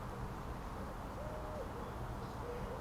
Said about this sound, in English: Pigeons are calling.